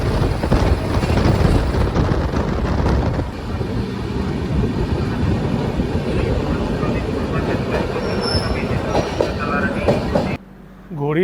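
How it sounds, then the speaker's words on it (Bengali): The Puri–Howrah Shatabdi Express pulls into Bhadrak station, heard from onboard as a loud, rolling rumble with rhythmic wheel clatter that eases and then cuts off near the end. "ট্রেনটা এই ভদ্রক এসে পৌঁছালো"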